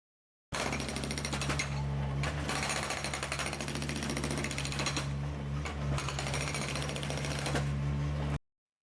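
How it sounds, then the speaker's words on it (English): Continuous loud rapid pounding of a 350-pound hydraulic breaker hammer on an S70 machine breaking a concrete patio, steady machine rhythm running for about eight seconds with an engine hum underneath. "when I put the breaker in, I can break it right where I cracked it"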